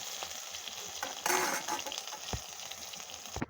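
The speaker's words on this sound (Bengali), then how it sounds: "এখন বেগুনটা আলাদা ভেজে নেব।" Eggplant frying in a pan with a little oil at home, a soft continuous sizzle with occasional louder crackles and a brief burst as pieces settle or are stirred, close by and without talk.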